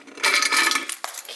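Metallic jingling of a set of keys being picked up, a bright clinking burst lasting under a second, then a sharp single jangle; close and fairly loud, with no talking.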